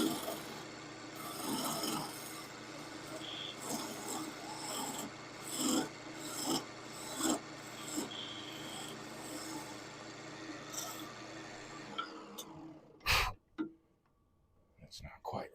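A wood lathe turns a wooden piece at 400 RPM while a tool rasps and scrapes against it in uneven bursts, with a person talking over it. The cutting stops near the end.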